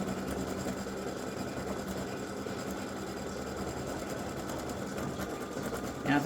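An embroidery machine stitches a free-standing lace pretzel with a continuous, even, rapid mechanical whirr and buzz, close and steady, with no pauses.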